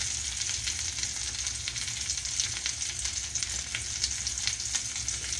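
Pork chops fry in olive oil and butter, giving a steady, dense crackling sizzle with faint stirring scrapes throughout, close and loud with no voices.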